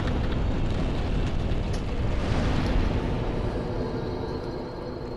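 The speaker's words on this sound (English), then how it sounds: "those explosions are really loud, like disproportionately loud compared to every other like sound in" Firebomb explosions in the Dark Souls video game: loud, deep rumbling blasts that swell and then fade slowly into a low roar.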